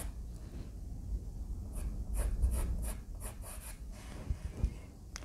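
A white pastel stick rubs firmly over paper in bursts of scratchy, pressing strokes, clear and close, with brief pauses between passes and no voices.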